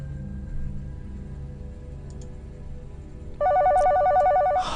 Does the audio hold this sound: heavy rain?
no